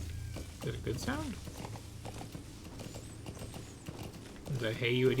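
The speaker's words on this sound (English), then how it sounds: "I'm assuming one of these buttons makes the horse go faster." Horse hooves clopping in Metal Gear Solid 5: The Phantom Pain, a steady trotting rhythm of game sound effects heard close, with someone talking over it and brief game tones near the end.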